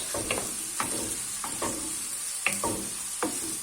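Onion sizzles in hot oil in a pan, a continuous close crackle with several sharp scraping stirs at irregular intervals, with no voices.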